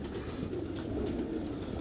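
Heera Laal breed pigeons coo softly and continuously, faint and slightly distant, against a broad wash of background noise.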